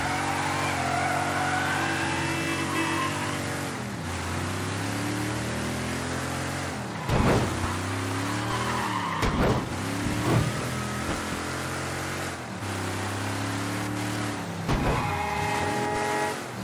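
A car engine in Mafia III on Xbox One revs and drives for a long stretch, its pitch rising and falling through gear changes, with a few sharp louder bursts and steady road noise underneath.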